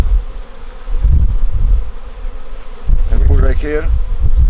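An angry honey bee swarm in a garage buzzes loudly and continuously near the microphone, with a person's voice speaking over the droning hum.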